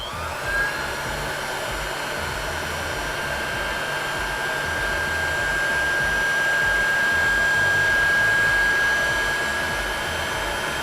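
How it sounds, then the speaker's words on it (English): Heat gun blasting steadily for around ten seconds while heating a swim jig head so powder paint will stick, a loud continuous whooshing roar up close, alone with no talk. "I'm gonna put it over the heat gun for about, I don't know, 20 seconds or so, get it hot enough to have the paint stick on"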